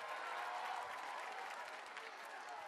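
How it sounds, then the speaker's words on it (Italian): Applause for Pino Aprile at an Italian public event in Bisceglie: steady, dense clapping from a crowd, fairly faint and distant, continuing evenly throughout without a break. "Un applauso per Pino Aprile"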